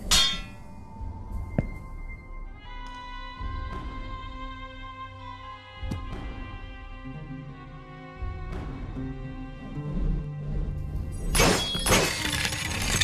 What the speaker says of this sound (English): Destroy all bottles using your weapon's ability.